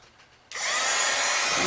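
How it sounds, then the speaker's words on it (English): A heat gun for craft embossing starts up with a sudden rush of loud, steady, breathy blowing noise after a brief quiet moment, close and continuous to the end. "Okay, now I have my heat gun."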